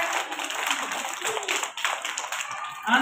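Schoolchildren at a prize announcement applaud with steady, overlapping handclaps that blend into a continuous patter of moderate loudness, with faint voices mixed in.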